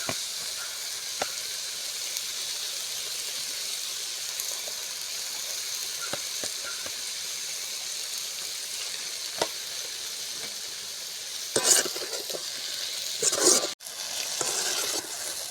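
Potatoes with turmeric and salt sizzle steadily in a pan, with a few light clinks and then louder scraping bursts of stirring near the end.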